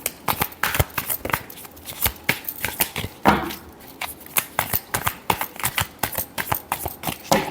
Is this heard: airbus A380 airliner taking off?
no